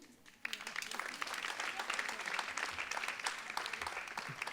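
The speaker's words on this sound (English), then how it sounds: "With a round of applause" An audience at a dance evening gives a round of applause for the event anchor, Divyadarshini, a dense, steady clapping crowd that starts abruptly and carries on evenly at moderate loudness.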